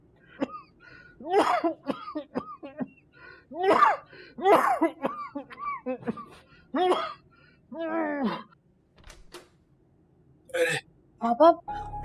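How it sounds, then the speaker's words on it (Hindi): A man's repeated harsh coughing fits in an indoor drama scene, a series of rough, throaty bursts with gasping pauses between them, fairly close and clear. "आपको ये मामूली खांसी लगती है?"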